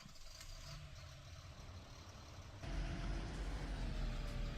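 A Renault 936 tractor engine runs in Farming Simulator 17 as a steady engine drone that suddenly steps up into a louder, deeper rumble as the tractor starts moving.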